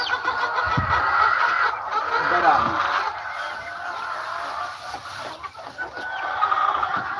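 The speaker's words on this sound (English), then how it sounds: "those broiler chickens are OMG. So loud" Broiler chickens on a farm clucking loudly in the morning, a dense continuous flock of clucks and squawks, with a person speaking briefly over them.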